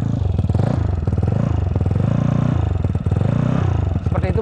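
A Vespa Sprint scooter engine with a Remus exhaust idles loudly and steadily nearby, with a rough, slightly tinny exhaust note and faint clatter throughout.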